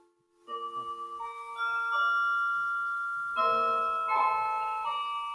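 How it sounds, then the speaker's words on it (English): A gentle school bell in New York City rings out a soft melodic chime, its sustained tones layering and ringing on at moderate volume. "Can we just hear that bell?"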